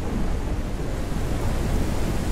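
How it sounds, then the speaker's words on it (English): Steady rain with a low thunder rumble from the sci-fi survival game Forever Skies, a dense, even wash of noise holding at the same level throughout with no talking. "Oh, no, that's just the rain effect."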